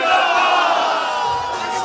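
A political rally crowd in Pakistan answers a leader's slogan with a loud, sustained massed shout that fills the clip, steady and dense with no individual voices standing out.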